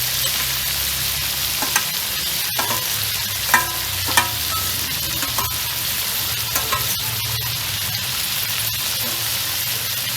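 Onion, ginger, garlic and cumin pastes fry in oil in a pan with a steady hiss, broken by scattered stirring clinks and scrapes, close and alone.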